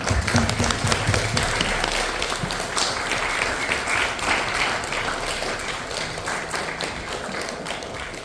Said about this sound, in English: let us give us a round of applause and welcome our parents of the year